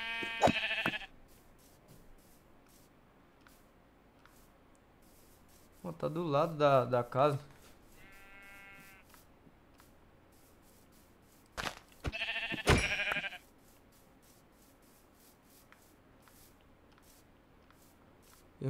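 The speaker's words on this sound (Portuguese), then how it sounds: "isso aqui é uma ovelha, velho." A Minecraft sheep bleats in a short wavering burst midway, with a spoken voice heard before and after it and a few soft clicks between.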